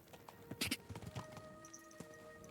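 Horse hooves clip-clop along a path in the video game Kingdom Come Deliverance II, a run of uneven, moderately close thuds and clacks over soft ambient background.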